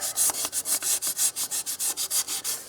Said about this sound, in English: 1000 grit sandpaper and a little bit of WD-40, and we're gonna get that clean